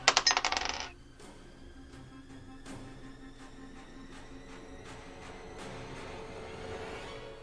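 A die rolled across a table during a tabletop role-playing game session, giving a quick burst of rattling clatter for about a second before settling into quiet room noise.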